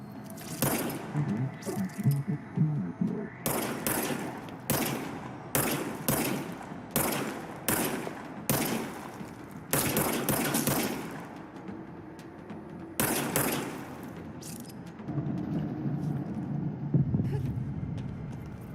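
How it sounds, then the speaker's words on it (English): Gunfire from the player's weapon in the video game Control: sharp, loud shots fired singly and in quick bursts, spaced irregularly over a low, steady game background, with no talking. "Okay, now I have a gun."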